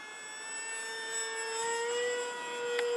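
AeroScout S2 light aircraft engine held at full throttle, a steady droning whine with stacked tones that rises slightly in pitch, continuous and fairly close throughout.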